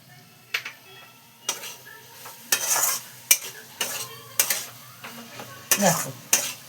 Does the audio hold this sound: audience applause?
no